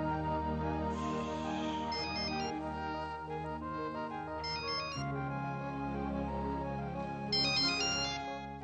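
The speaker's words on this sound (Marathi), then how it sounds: "फोन." A mobile phone ringtone plays a continuous melodic tune of bright repeating notes, loud and close, with no voices over it, in a Marathi TV serial scene.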